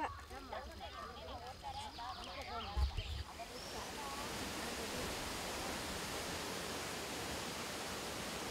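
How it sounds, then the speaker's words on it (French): Ravana Ela Falls, a waterfall pouring from a mountainside in Sri Lanka, gives a steady broadband roar that swells in and holds constant, following a few seconds of quieter ambient sound. "Ravana Ela Falls, une cascade qui jaillit du flanc de la montagne"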